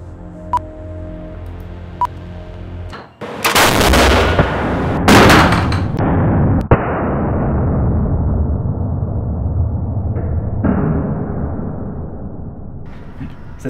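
A gun firing sabots into a Bloodhound SSC cockpit protection panel during ballistic testing: one sharp, loud blast followed by a second report, with a long rumbling decay and a few fainter clicks and thuds.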